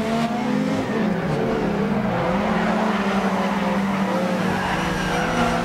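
Lancia S4 rally car in DiRT Rally 2.0 accelerating hard, a loud continuous engine roar rising and dipping through gear changes with faint tyre noise, steady and close throughout with no talk.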